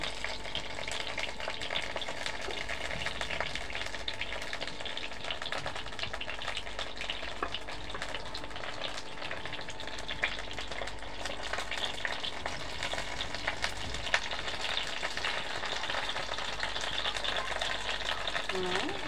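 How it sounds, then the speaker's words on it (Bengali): Stuffed pointed gourds sizzle steadily in hot oil, a dense continuous frying crackle held close and loud throughout, with faint occasional clicks and a murmur of background sound. "ভাজা হয়ে যাচ্ছে, আর একটু উল্টে পাল্টিয়ে দেব।"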